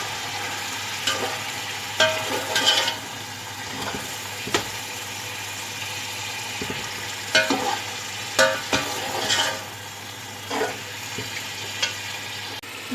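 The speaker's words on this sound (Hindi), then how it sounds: "ये डाल के अच्छी तरह से मसाला भून लेंगे।" Masala with garam masala, tomatoes and green chilies frying in a pan, a steady close sizzle broken by repeated scraping stirs of a spoon at irregular intervals; no voices.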